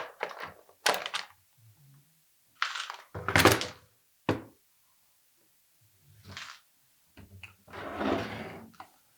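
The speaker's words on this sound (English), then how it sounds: "Now the top cover will come up." Plastic top cover of a Stihl chainsaw being lifted off during maintenance, heard as a handful of separate thunks and clunks with short knocks and rattles spread out between quiet gaps.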